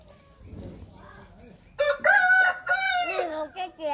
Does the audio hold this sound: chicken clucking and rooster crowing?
yes